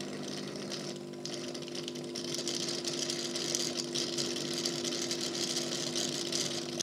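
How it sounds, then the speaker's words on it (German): Base station of a Dreame L10S Ultra Gen2 robot vacuum pumping out dirty water or taking in fresh water: a steady motorized hum with a whooshing, slightly rising rush, continuous throughout and close by, with no talking. "Und so hört sich das an, wenn Dreckwasser abgepumpt oder Frischwasser zugeführt wird."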